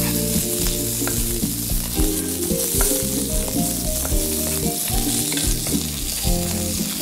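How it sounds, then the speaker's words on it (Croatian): Young green beans fry briefly in leftover fat in a wok, a steady loud sizzle with stirring, heard over background music. "Na masnoću od prženja zatim dodamo mlade mahune"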